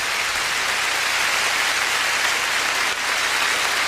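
Warm ovation for figure skater Oksana Baiul at a 1999 Champions on Ice show: loud, sustained applause from a large arena audience, a dense, even roar of clapping with no voices.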